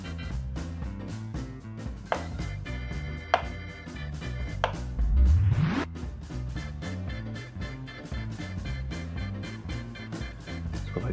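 Knife slicing an onion on a cutting board in the cooking game Cooking Simulator, a quick run of crisp chopping taps over a steady, busy game background.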